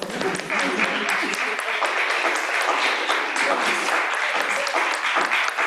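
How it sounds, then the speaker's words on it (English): Sustained round of applause at a school board meeting, steady dense clapping from a roomful of people, with voices mixed in underneath. "Can we give our board a round of applause?"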